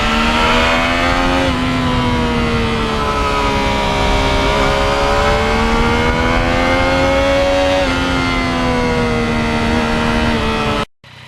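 A 2020 Yamaha MT-09 three-cylinder motorcycle ridden along back roads, its engine droning loud and close with smooth rising and falling revs as the rider shifts and holds speed, continuous until a sudden cutoff at the end.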